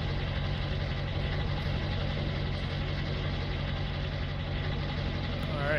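A loader tractor engine idles in a farming video game, a steady mid-low mechanical hum that holds without change, with no one speaking over it.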